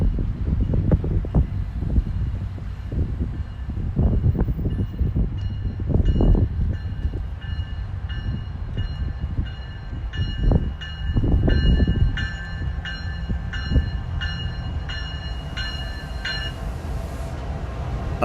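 Two light locomotives with no cars attached rumble past, their engines pulsing loud and close, with a long sustained whine in the middle as the units roll by.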